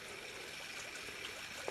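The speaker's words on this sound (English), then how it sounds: "This is in a nice little creek." A small creek on rural hillside land flows and trickles softly in the distance, a faint steady murmur with no talking.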